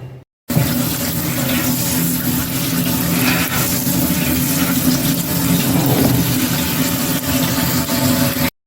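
Water from a kitchen tap runs steadily in a sink while rhubarb is rinsed under it, a loud continuous splashing rush with no voices.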